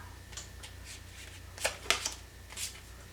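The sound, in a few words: shuffling tarot cards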